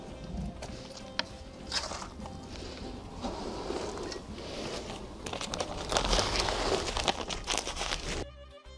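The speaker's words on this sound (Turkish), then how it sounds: "İple bağladıktan sonra bulunduğumuz bölgeden içini toprakla dolduruyoruz." Soil is packed into a plastic bag around a freshly grafted mulberry tree, giving continuous close crinkling and gritty rustling with occasional sharper crackles before stopping abruptly.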